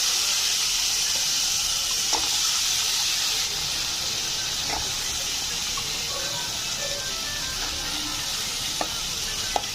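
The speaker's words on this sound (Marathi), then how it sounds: "आता दोडका टाकूया आणि डाळ," Steady loud sizzling of ridge gourd and chana dal dropped into hot frying masala, a continuous hiss with occasional faint stirring clicks and no talk.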